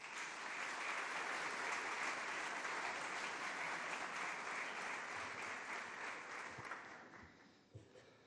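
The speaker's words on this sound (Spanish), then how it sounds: "Fuerte el aplauso para Mario Urrea." Audience applause at the inaugural ceremony of the Confederación Hidrográfica del Segura centenary, a steady dense clapping from a large crowd that holds for several seconds and then thins out, heard faintly as if from a distance.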